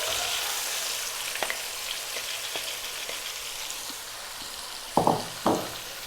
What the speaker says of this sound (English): Now we're going to go in with our lovely lamb mixture.